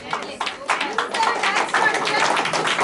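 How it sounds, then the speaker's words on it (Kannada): Audience applause fills an auditorium during a first-anniversary karaoke singing program, a scattered, steady patter of many hands clapping throughout, with voices talking over it. "ಇದೊಂದು ಜ್ಞಾಪಕ ಇಟ್ಕೊಳ್ಳಿ, ಚಪ್ಪಾಳೆ ಅಂತ ಹೊಡಿಲೇಬೇಕು ನೀವು"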